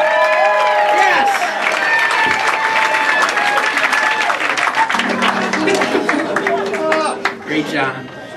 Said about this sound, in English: one more round of applause for Laura.